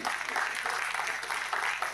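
A conference audience breaks into applause, a fairly soft, continuous wash of clapping heard from a distance, with some voices mixed faintly underneath.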